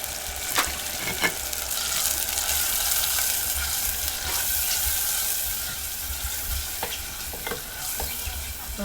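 Cauliflower fries in a pan for a Gujarati sabzi, giving a steady close sizzle with several sharp stirring scrapes and clicks spread through it, and no voices.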